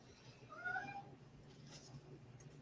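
A cat meows a few times at moderate distance over a low background hum, the calls short and rising, with no talk over them.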